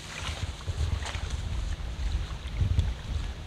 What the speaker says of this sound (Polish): Jak widzicie, wiatr dalej wieje niestety.